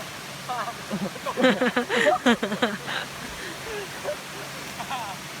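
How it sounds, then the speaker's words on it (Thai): A steady broadband rush of a multi-tiered forest waterfall after rain fills the background while a person talks over it nearby. "ทุกคนได้ยินเสียงน้ำตกปะ"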